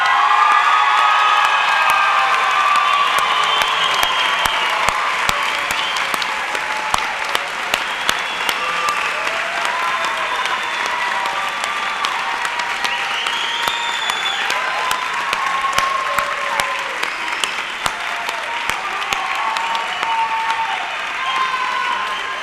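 Sustained applause and scattered cheers and whoops from the crowd at a State College of Florida winter commencement as new graduates are congratulated, a loud, dense clapping that carries on for over twenty seconds.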